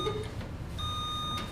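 A buzzer at an academic quiz competition sounds a steady electronic beep tone, heard twice in short succession over a low hum of room noise, with no talking.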